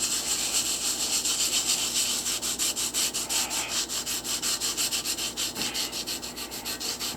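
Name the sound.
scrubbing fossil rock with a sponge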